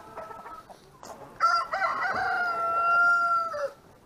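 A rescued rooster crows once outdoors, a short, drawn-out call that starts after a few soft clucks and fades at the end, fairly close and clear.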